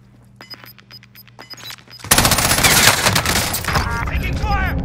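Gunfire erupts in the shooter Call of Duty: Modern Warfare, beginning as scattered shots before dense rapid automatic bursts and booms take over, loud and close under shouted voices.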